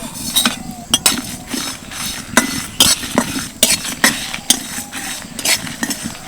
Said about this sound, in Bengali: একসাথে শুকনো কড়াইয়ের মধ্যে দিয়ে ভালো করে ভেজে নেব